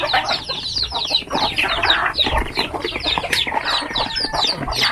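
Chickens cluck busily nearby, several birds overlapping in quick, choppy calls with a rustling farmyard background.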